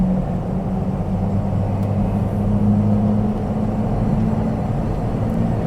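A 2000 Ford Excursion XLT V10 pulls steadily under acceleration, a continuous deep engine drone with a low steady hum, loud and close throughout with no talking.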